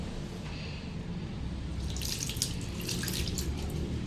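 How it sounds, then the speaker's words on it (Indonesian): Running tap water splashes steadily over hands during a handwashing demonstration, a faint, continuous rush that grows slightly more splattery as the hands move under the stream. "basahi tangan menggunakan air mengalir."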